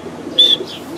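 A large pigeon, about three years old, gives a brief call, one short, fairly loud note close by over a low background hum.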